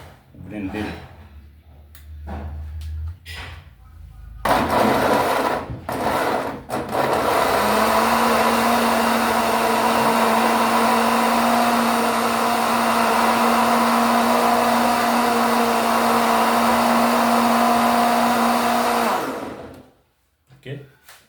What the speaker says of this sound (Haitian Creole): Prends blender.